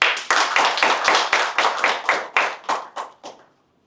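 Applause rings out at a press conference held by civic elders, a burst of steady clapping from a modest group that comes in firm, rhythmic waves and tapers off into silence after a few seconds.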